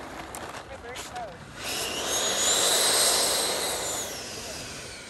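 An E-flite F-16 Falcon 80mm electric ducted-fan RC jet touches down a little hard, its fan whine rising then easing into a steady high whir that fades toward the end, heard nearby and alone.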